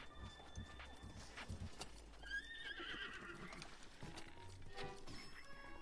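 A horse in The Legend of Zelda: Breath of the Wild lets out a loud, quavering whinny partway through, over a steady bed of clip-clopping hooves and game ambience, with no talking.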